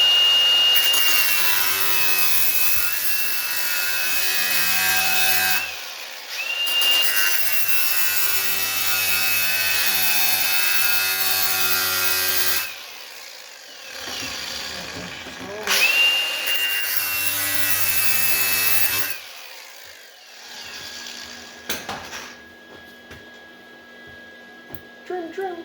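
Wood is trimmed with a power tool in several long buzzing passes, each lasting a few seconds, separated by short pauses. Close and loud, with no talk.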